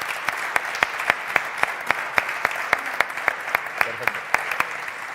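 An audience at a conference session on filmmaking in Teruel applauds, steady clapping with sharp individual claps standing out in a fairly even rhythm throughout.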